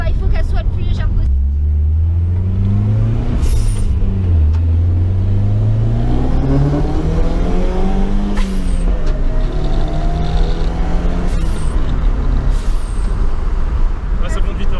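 A stripped-out, lightweight Nissan 200SX S13 drift car revs and accelerates loudly, its engine note sweeping up through the gears with sharp hissing bursts between shifts, while people talk over it.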